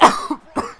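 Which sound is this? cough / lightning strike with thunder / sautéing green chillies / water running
cough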